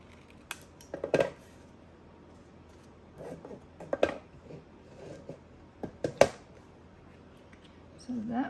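Scissors snip through a sticker sheet during crafting of a unicorn jewellery book box, with a few sharp cuts scattered among soft handling noises and quiet pauses, close up.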